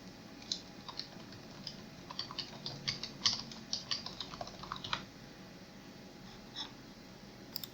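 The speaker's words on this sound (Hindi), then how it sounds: "और यहाँ पे मैं टाइप करता हूँ" Quiet typing on a computer keyboard, a run of soft, uneven key clicks for about five seconds, then a pause and a few more taps near the end.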